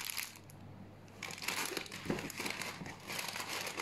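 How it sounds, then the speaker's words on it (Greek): Plastic bags being handled and crumpled up close, a steady dry crinkling and rustling that swells and fades over a few seconds, with no talking. "σακούλες"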